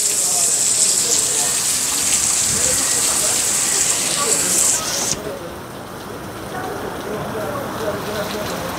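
Rain falls steadily on a Chinatown overbridge where people sit, making a loud, dense hiss that eases and dulls a little after the midpoint and then continues evenly.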